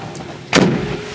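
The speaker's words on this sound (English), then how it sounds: "I'm going to shut the door." The door of a Volkswagen T1 campervan is shut once with a single solid, close metallic thud, then a short ringing tail inside the cabin.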